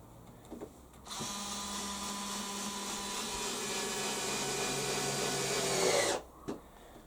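A cordless drill driving screws whirs steadily for about five seconds, a loud continuous motor drone with a click at the start and a brief tail as it stops.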